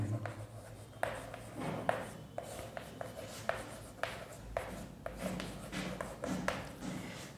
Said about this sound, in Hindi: तो आइए लिख देते हैं।